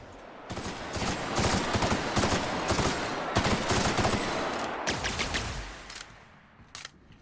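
Gunfire in the video game The Outer Worlds, Peril on Gorgon DLC, loud rapid bursts of shots in a sustained volley that tapers off toward the end, ending with a few isolated shots.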